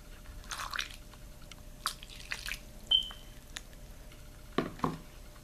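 Water is added little by little to cornstarch for a homemade stress ball, giving scattered wet squishes, drips and sticky stirring sounds close by with quiet gaps between.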